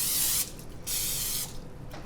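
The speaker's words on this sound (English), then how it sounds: "we're going to spray our donut pan" Coconut oil cooking spray hissing onto a donut pan in two strong bursts with a short pause between them, close and loud, followed by a fainter tail of spray.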